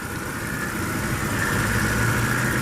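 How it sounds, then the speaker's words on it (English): The 3.5-liter V6 of a 2009 Mercedes-Benz E350 4Matic wagon idles quietly and evenly, a smooth low hum holding steady throughout without any talking. "can hear how silent it is running at the moment."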